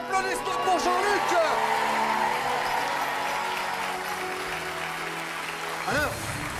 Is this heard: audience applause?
yes